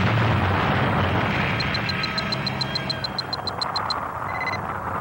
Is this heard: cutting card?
no